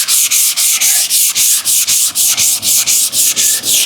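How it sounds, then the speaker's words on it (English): Body filler on a car panel being block sanded with 600 grit paper: rhythmic back-and-forth rasping strokes, about three to four per second, close and loud, with no talking. "we gotta sand both of these panels with 600 grit anyway"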